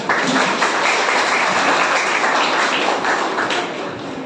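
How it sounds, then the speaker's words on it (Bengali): Audience at a school event applauding the students, dense sustained clapping from many hands, loud and continuous throughout, fading slightly at the end. "সকল বিদ্যার্থীদের জন্য আরো একবার জোরে হাততালি"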